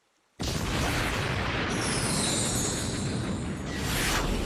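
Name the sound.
cartoon explosion effect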